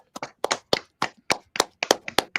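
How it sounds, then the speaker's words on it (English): Sharp, close hand claps come in an irregular run of about a dozen distinct slaps, a few people clapping at a talk rather than a full crowd. "we should all put our hands together and give an enormous applause to Mr. Joe Firmage."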